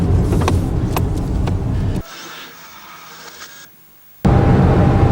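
A car without power steering drives and turns, its engine and road noise loud and close, then dropping to a quieter whirring hum and a brief near-silence before the loud engine noise returns.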